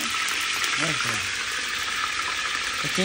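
Dry cumin seeds dropped into hot oil for mutton kosha, a steady close sizzle and crackle with a faint voice underneath.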